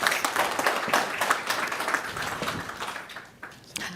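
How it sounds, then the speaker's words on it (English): An audience at a panel discussion applauds a speaker called to the stage, a moderate, crackling spatter of many hands clapping at some distance that thins and fades toward the end. "Can you please give him a round of applause?"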